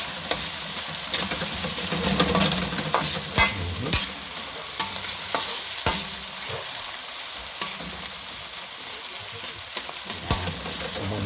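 Adobong baby squid being stirred in a pan, a spoon scraping and clattering in repeated strokes over a steady frying sizzle, close and fairly loud with no voices.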